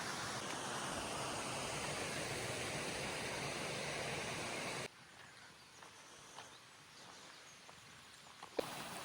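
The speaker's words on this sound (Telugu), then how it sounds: "ఇక్కడ వాటర్ ఫాల్స్ ఉన్నాయి," Small waterfalls with water flowing, a loud dense rushing roar filling the first half before dropping to a quieter, thinner background with occasional faint knocks.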